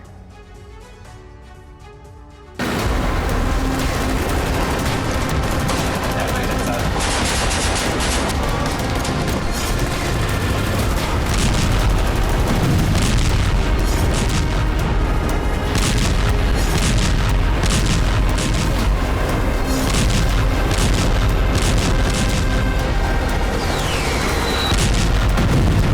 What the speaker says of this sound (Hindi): वहीं आसमान से लेकर प्रचंड बारूदी प्रहार भी किया जा रहा है।